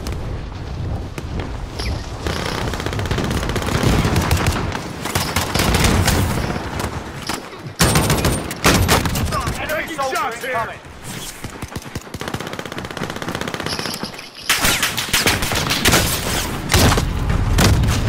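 Call of Duty: Modern Warfare gameplay fills with repeated gunfire bursts and booming blasts, loud and chaotic, pausing briefly between volleys, while voices talk over the action.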